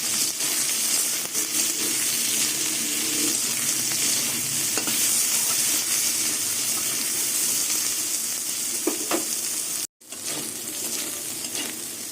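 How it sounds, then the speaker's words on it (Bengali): Soybean chunks fry in oil in a kadai while being stirred, giving a continuous close sizzle with scraping and clattering stir strokes and a momentary break near the end. "সয়াবিনগুলো আর একটু ভাজা হবে"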